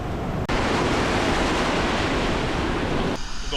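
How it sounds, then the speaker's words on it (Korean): Ocean surf below tall cliffs at Nusa Penida, Bali, roaring as a steady broadband wash close to the microphone, with a sharp break near the start and a slight easing toward the end. "어제에 비해서 파도가 굉장히 약합니다"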